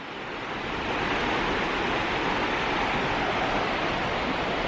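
The Yaak River in Montana rushes steadily, a loud, close, unbroken wash of water noise that holds constant from start to end with no voices.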